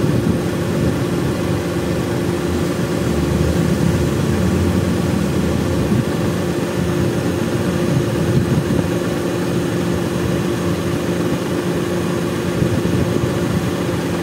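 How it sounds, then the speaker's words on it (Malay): An air conditioner compressor runs inside a Proton S70 with the fan blowing hard, giving a steady, loud, unbroken broadband roar and hum with no pauses. "Semasa keadaan on aircon, kompresor tengah on."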